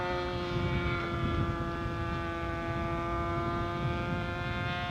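A 1/8 scale R/C P-39 Airacobra model airplane makes a low pass, its engine a steady droning whine held at a fairly even loudness throughout, with no speech.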